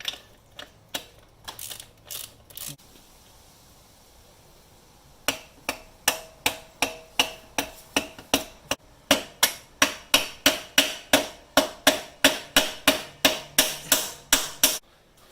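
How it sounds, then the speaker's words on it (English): A ratchet turns a fastener on the rear gas shock of a 2022 Grom motorcycle during a suspension upgrade. A few quick clicks are followed by a pause, then a long run of sharp, evenly spaced clicks that grow louder, close and alone. "Let's try this with a ratchet."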